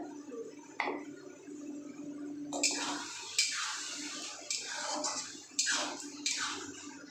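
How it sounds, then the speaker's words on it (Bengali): Water from rinsing a mixer jar is poured into a pan during mutton curry cooking, with splashing bursts and a few clinks of glass or metal in a quiet kitchen. "মিক্সি ধোয়ার জলটা অল্প দিলাম"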